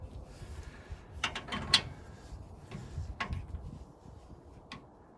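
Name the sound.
torquing suspension bolts on a 1936 Chevy coupe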